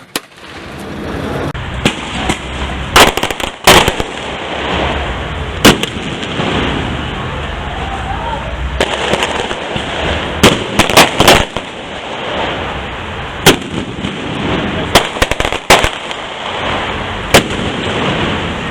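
Fireworks and firecrackers going off outdoors, a long run of loud, sharp bangs and pops at irregular intervals, some in quick clusters, over steady crowd and street noise.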